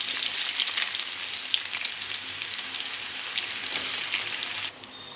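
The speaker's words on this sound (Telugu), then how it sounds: "ఉల్లిపాయలు అయితే గోల్డెన్ ఫ్రై, కొంచెం లైట్గా ఫ్రై అయ్యేంత వరకు మనం బాగా వేయించుకోవాలండి" Onions with green chillies, curry leaves and cumin frying steadily in hot oil, a continuous close, even sizzle with faint crackles and a slight drop in intensity near the end.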